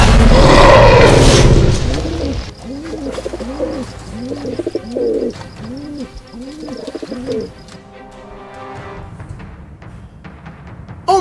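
Repeated low, rounded pigeon coos arrive in a steady series after a loud opening burst, fairly close and clear against faint background noise.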